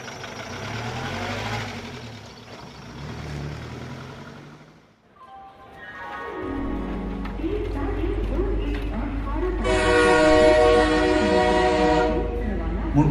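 A train pulling out of a station, rumbling wheels and rail clatter building to a loud sustained horn blast near the end, with someone narrating over it.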